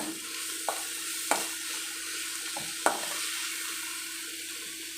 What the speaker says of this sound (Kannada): ಇವಾಗ ಫ್ರೈ ಆಗ್ತಾಯಿದೆಯಲ್ವಾ ನೋಡಿ ಈ ಥರ ಫ್ರೈ ಆಗೋವಾಗ